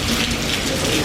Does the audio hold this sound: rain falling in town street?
yes